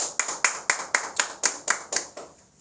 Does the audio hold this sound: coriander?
no